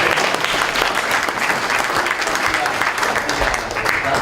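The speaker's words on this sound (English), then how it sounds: "So, let's give you a big round of applause." The audience at a MobileCON 2013 conference panel breaks into loud, sustained applause, a thick wash of clapping that holds steady to the end with faint voices mixed in.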